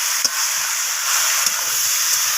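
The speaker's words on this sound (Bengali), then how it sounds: "চিকেনটাকে আমি পেঁয়াজ আর টমেটোর সাথে এইভাবে নাড়াচাড়া করে এইভাবে ভাজা করে দিচ্ছি একটু" Chicken pieces fry with onion and tomato in a pan, a loud continuous sizzle close by with occasional clinks and scrapes of a spatula stirring the mixture.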